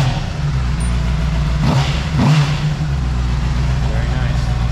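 Honda CBR600RR motorcycle engine fitted with a new aftermarket exhaust, revving in two sharp blips over a steady loud idle, close to the bike.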